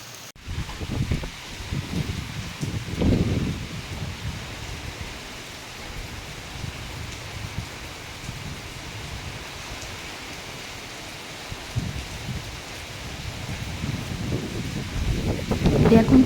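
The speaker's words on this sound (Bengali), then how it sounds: "এখন তুমুল বৃষ্টি হচ্ছে" Heavy downpour falling outdoors makes a steady, dense broadband hiss, with gusts swelling now and then and a brief surge near the end.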